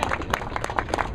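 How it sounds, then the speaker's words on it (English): A lecture audience at the 44th anniversary of a 1967 Philadelphia Black student event applauds, with dense, steady clapping from many hands filling the room continuously. "Another big round of applause for Brother Fattah."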